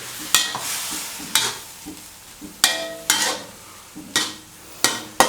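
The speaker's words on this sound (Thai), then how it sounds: "พอเริ่มเดือดก็เอามะเขือเทศลงใส่ลงไปเลยนะครับ อันนี้ก็ผัด ให้มะเขือเทศสุก" Tomatoes are stir-fried in a hot pan for a Thai northern-style chilli paste, with a spatula scraping sharply about once a second over a steady sizzle, close and clear with no talk.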